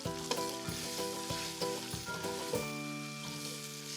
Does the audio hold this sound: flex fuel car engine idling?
no